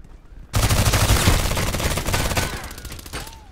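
PDR-C submachine gun firing in the shooter Contract Wars on the map Bay 5, a sudden loud sustained automatic burst lasting about three seconds with rapid rattling shots, then tapering off.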